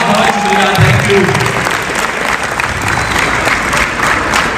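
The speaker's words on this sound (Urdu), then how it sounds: "بہت ساری تالیاں ریشم جی کے لیے" Loud, sustained applause fills a theatre hall during a stage play, a thick, continuous clapping crowd with a faint voice briefly audible early on.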